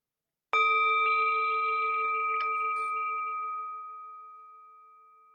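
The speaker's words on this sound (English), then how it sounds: "we'll begin and end with the sound of the bell" A single clear meditation bell strike rings out and sustains, its pure tone slowly fading over several seconds in a quiet room.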